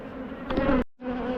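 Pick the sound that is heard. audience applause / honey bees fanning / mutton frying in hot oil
honey bees fanning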